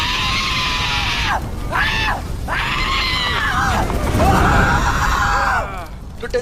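Batari's dying scream in the Far Cry Primal boss fight: a series of strained, wavering vocal cries, rising and falling across several seconds, loud against a dense game soundscape.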